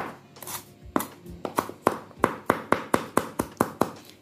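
A knife chops chili on a cutting board while fish noodle soup is being made. About a dozen crisp, close chops come in a steady rhythm that speeds up, with no talking.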